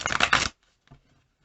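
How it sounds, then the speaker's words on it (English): A brief, close burst of tarot cards riffling together, followed by a faint soft tap and near silence. "shuffle this one more time"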